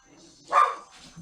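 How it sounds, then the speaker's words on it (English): A single dog barks once outdoors at horses running around a house, a short mid-distance bark amid faint background noise. "the dogs are barking at them"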